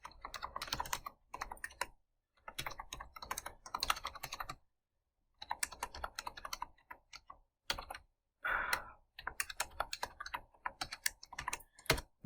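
Rapid bursts of typing on a non-standard computer keyboard, close and clear, with irregular clusters of key clicks broken by short pauses, no voices present.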